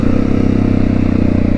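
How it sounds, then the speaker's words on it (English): A motorcycle engine idles steadily as the clutch is let out and the drivetrain re-engages the rear wheel, a close, loud, even mechanical rumble with no talk. "when I let the clutch out, the wheel is reconnected with the engine"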